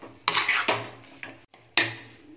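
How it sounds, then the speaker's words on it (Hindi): Gram flour mixed with turmeric is stirred in a pan while laddoos are being made. A spoon strikes and scrapes the metal in several loud, close, ringing knocks set at irregular intervals, with no voices. "इसको अच्छी तरीके से मिक्स कर लेंगे।"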